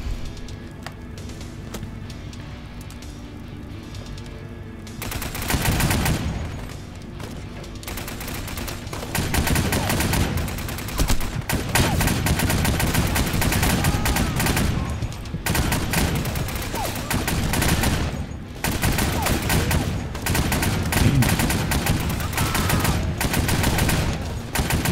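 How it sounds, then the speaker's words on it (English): Machine gun fire in the video game 7554, with dense bursts and fusillades of gunfire that start after a quieter opening and continue loud and sustained, broken by short pauses. "I've got a machine gun."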